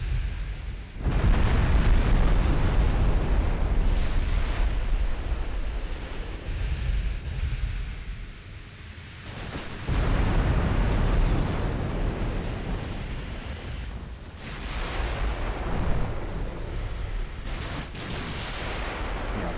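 Torpedo explosions in a naval war video game hit with deep, rumbling low-frequency booms, loud and sustained, with roaring bursts around the start and again near the middle and end, like heavy surf or artillery.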